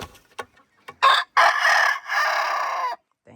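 Backyard chickens, including a Turken and silkies in an aviary, let out a few short clucks followed by a loud, close rooster crow that rises and holds for about two seconds, with no talking.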